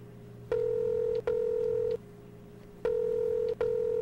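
A telephone being dialed: four steady electronic tones, each lasting under a second and in two pairs separated by a short gap, loud and clear over a low background hum, with no talking.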